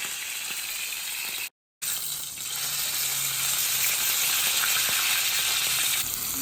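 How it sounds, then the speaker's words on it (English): Steak searing in a hot pan, giving a steady, loud sizzle that runs almost the whole way, broken by a brief silent gap early on. "Now it's time to turn over our steak. And then sear the sides as well."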